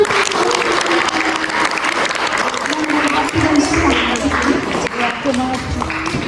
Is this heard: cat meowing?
no